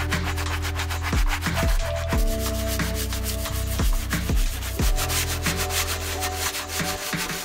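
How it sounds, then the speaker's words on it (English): Cleaning brushes scrub the wheel well of a neglected 25-year-old Mazda RX-7, producing a steady, close, continuous rubbing and bristle-scraping sound over a constant background hum. "I used a variety of cleaning brushes to spot clean the entire wheel well area section by section"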